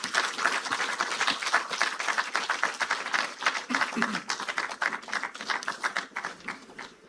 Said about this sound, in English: I think we can do better with that round of applause for the Honorable Minister of Finance